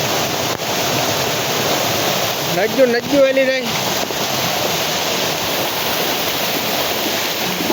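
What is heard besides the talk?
floodwater rushing after heavy rain in Umej village, Una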